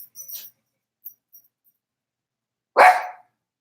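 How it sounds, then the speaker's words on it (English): A pet dog indoors gives one sharp, close bark after a few faint, brief sounds and a stretch of quiet. "Come here, be quiet, doggy."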